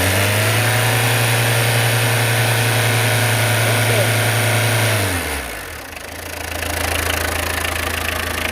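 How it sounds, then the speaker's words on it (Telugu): A used car's engine idles with a steady low hum, then the throttle is blipped and the note shifts and drops before settling back to a rough idle, close and loud. "సో బండి ఇంజిన్ అయితే ఈ విధంగా ఉందండి."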